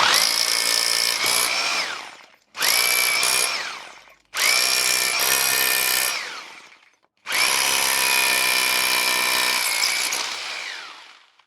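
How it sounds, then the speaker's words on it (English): A Bosch GBH 2-28 F rotary hammer in hammer-with-rotation mode drills into a concrete block with a 10mm bit, four loud close bursts of grinding, rattling drilling separated by short pauses, each trailing off as the motor winds down. "let's see how this machine performs in action by drilling into a concrete block with a 10mm bit"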